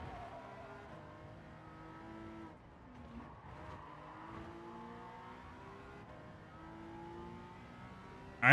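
Older Porsche Cup race cars in Gran Turismo 7 drone and whine at high revs, layered engine tones rising and falling steadily throughout, moderately loud and continuous.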